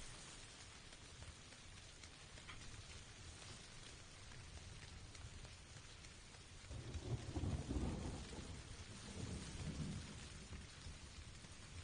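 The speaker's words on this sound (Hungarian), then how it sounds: "Eső. Hát meg előbb a dörgés." Steady rain pours throughout a video game scene, and a deep rumble of thunder rolls in about two-thirds of the way through, swelling loud and then fading back under the downpour.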